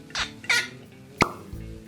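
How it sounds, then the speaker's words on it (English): Cork pulled from a bottle of barrel-proof wheat whiskey, heard as a few soft squeaky twists followed by one sharp, close hollow pop, then quiet handling. "Let's get a good cork pop on this puppy."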